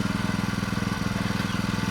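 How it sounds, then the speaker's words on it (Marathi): A tractor engine chugs steadily and close by during rice sowing in a Konkan field, with a continuous, throbbing low rumble that pulses rhythmically and never lets up, with no talk over it. "ट्रॅक्टर आले."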